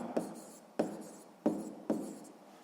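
Pen writing math notes by hand on paper, four short scratchy strokes spaced evenly, close and quiet, with no talking.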